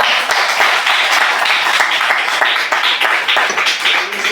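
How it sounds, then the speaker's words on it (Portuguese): A church congregation claps together in a steady, dense burst of applause that stays fairly loud and even throughout, with no voices rising above it. "Oh, palmas para Jesus, aleluia."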